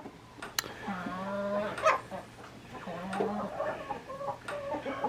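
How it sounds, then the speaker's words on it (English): Chickens cluck and call in a farmyard barn lot, with a couple of drawn-out rooster crowing phrases rising over steady background hum. "I think I'm gonna need to get a few roosters out of the barn lot pretty quick"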